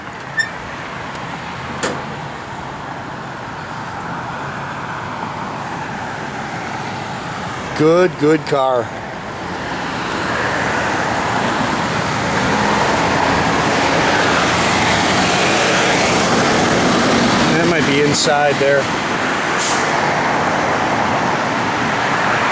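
Someone talks about a 1967 Chevrolet Chevelle SS with a North Carolina body while it drives. Steady road and engine rumble sits under his voice, with a brief clatter early on, and the drive grows louder and fuller in the second half.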